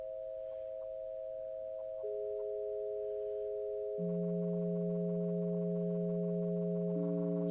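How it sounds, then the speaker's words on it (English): Solfeggio tones, starting with 528 hertz, play as steady pure electronic hums; further tones join one after another every couple of seconds, building a layered sustained chord, with no talk. "We always play the 528 hertz, and"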